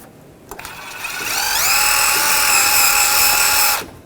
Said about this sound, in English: This is more of a nylon wire brush, so it's not going to hurt anything.